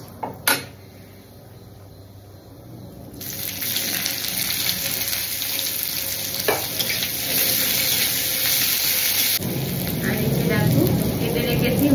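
Panch phoron, bay leaf and two dried chillies hit hot oil in a pan, bursting into a bright, steady sizzle that carries on loudly and close up after a brief clatter.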